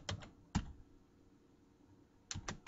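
Keyboard typing while writing Microsoft Access VBA code: a few separated, crisp keystroke clicks close by with quiet gaps between them and no talk.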